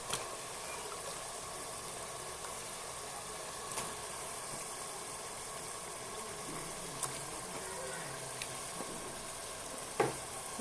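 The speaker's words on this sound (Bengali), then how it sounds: "মুরগির মাংস দেওয়া হয়ে গেল," Chicken pieces sauté with masala in a pan, giving a soft, steady sizzle with occasional light clinks of stirring, faint and close.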